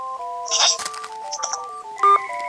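A sequence of telephone dialing tones plays, a rapid string of close, clear dual-pitch beeps of varying lengths, with a brief burst of noise mixed in partway through.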